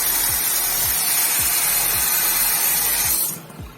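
Water hisses steadily from a kitchen tap through a faucet shower nozzle attachment, a close, broad spray that cuts off abruptly near the end.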